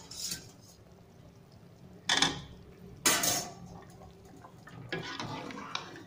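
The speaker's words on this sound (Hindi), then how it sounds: "उबले हुए आलू शामिल किए" Boiled potatoes tipped into a pot of mutton shorba, giving three separate clattering bursts of pot and utensil contact against a quiet kitchen background, with a softer rattling scrape near the end.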